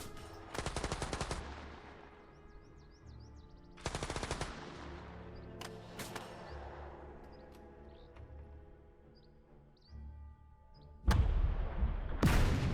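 Gunfire in Second Front, a turn-based WW2 game against the Afrika Korps: separated bursts of rapid machine-gun fire, each loud and clipped, with quieter ringing effects and ambient tones between, ending in a heavier burst.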